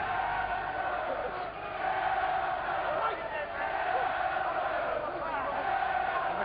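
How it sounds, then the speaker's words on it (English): A boxing arena crowd cheers and roars for heavyweight Matt Skelton, a broad, distant wash of voices that swells and dips while commentators talk over it. "And the crowd cheer for him again, Matt Skelton."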